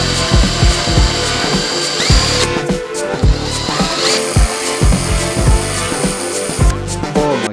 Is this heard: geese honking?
no